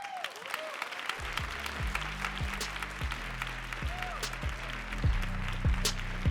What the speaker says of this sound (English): keep clapping for your next poet